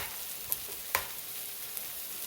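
Pink salmon being stirred in a pan, a soft continuous sizzle with a couple of faint scraping clicks from the spoon, fairly quiet and close.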